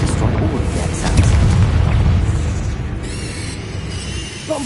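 A fire spell explodes in Hogwarts Legacy, a loud, rumbling boom that swells early and rolls on as a thick, continuous roar, fading slightly toward the end.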